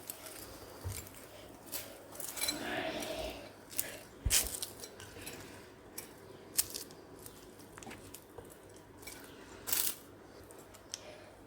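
A spoon scrapes and clinks through tempered lemon rice in a pot, quiet soft stirring with a few sharper taps of metal against the pot.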